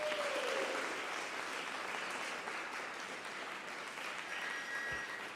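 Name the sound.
audience applause at an award ceremony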